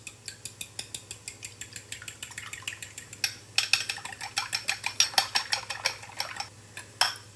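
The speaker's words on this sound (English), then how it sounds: "We're just gonna whisk them." Eggs are whisked in a bowl with a utensil for a nopales and eggs breakfast, a rapid series of sharp close clicks that begins sparse and speeds into a dense, uneven rhythm, with a low hum underneath and no speech.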